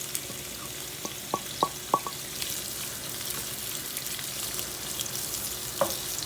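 Onions fry in warm olive oil on a stovetop, a steady close sizzle with a few sharp taps and clinks of a utensil against the pan.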